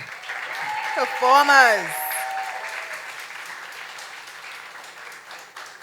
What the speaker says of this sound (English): Let's make one more round of applause for the open mic